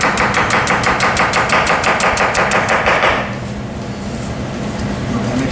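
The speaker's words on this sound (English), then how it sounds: "we're going to just julienne this real quick" A knife julienne-cuts vegetables on a cutting board in rapid, even, loud chops for about three seconds, then stops, leaving quieter kitchen background.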